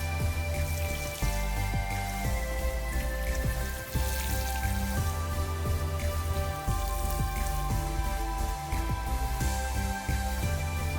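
A rain-type garden sprinkler showers water over freshly sown seeds in an outdoor bed, giving a dense, steady patter like rainfall that continues unbroken throughout, with no talking.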